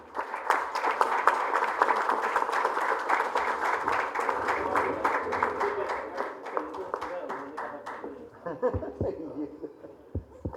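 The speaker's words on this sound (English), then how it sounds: "A round of applause to continue so that we have that feeling and reverberation in this hall" An audience in a hall at an awards ceremony claps in sustained, dense applause that gradually thins to scattered claps and fades near the end.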